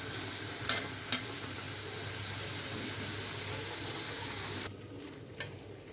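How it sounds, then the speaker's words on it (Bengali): Fish with coriander leaves and spices is stirred in a pan, giving a continuous low frying hiss with a few sharp clinks of the spoon. The sizzle drops away abruptly near the end, leaving one last tap. "আমি এভাবে নেড়ে চেড়ে মশলাটা লাগিয়ে নিলাম।"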